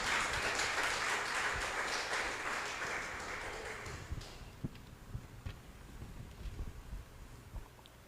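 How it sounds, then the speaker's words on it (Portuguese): Congregation at a family church worship service breaks into a dense wash of applause that fades after a few seconds, leaving sparse scattered claps and faint room noise. "Dá-lhe um aplauso"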